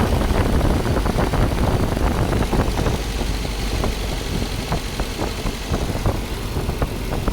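A Mercedes W124 engine being converted to aftermarket fuel injection idles loudly and close up as its revs slowly fall, giving a steady rumbling drone with no voices.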